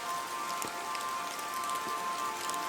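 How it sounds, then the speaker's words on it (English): Steady rain drums on a roof in a continuous, dense patter with no pauses and no voices. "the drumming of the rain on the roof"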